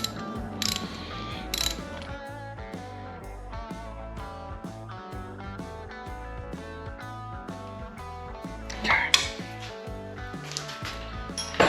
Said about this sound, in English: Start wrenching on this.